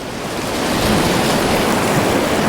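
Surf of the North Sea washing in below tall coastal cliffs, a steady broad roar of breaking waves mixed with wind buffeting, heard from high above and growing slightly louder.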